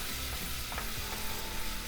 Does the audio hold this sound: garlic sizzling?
yes